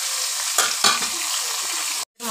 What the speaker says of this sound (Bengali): এবার সরিষার তেল দিয়ে দিলাম, দিয়ে মাছের মাথাগুলো ভেজে নেব।